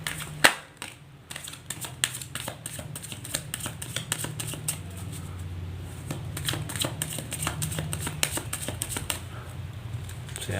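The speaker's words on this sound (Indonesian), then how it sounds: "Saya shuffle terlebih dahulu." Tarot cards being shuffled by hand, a long run of quick, crisp riffling bursts and slaps close up, with a soft voice faintly underneath.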